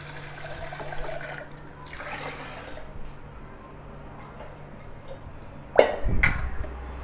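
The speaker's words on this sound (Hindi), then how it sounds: "पानी हमको थोड़ा कम लग रहा है तो छोटी गिलासी और डालेंगे।" Water pours into a pressure cooker holding rice for salted rice, a short splashing gush near the end over a steady low kitchen hum.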